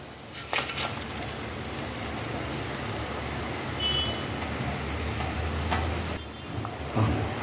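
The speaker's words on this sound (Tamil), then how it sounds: "குழம்பு நல்லா கொதிச்சிருச்சு" Crab curry bubbling at a steady boil in a pot, a dense continuous simmering and sizzling texture with soft popping, moderately loud and close, with no talking over it.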